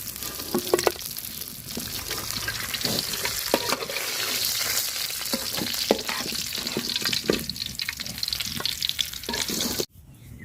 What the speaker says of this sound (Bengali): কড়া করে মাছ ভাজা নিচ্ছি